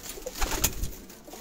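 Soft, low pigeon coos repeat a few times close by, with faint rustling in the background.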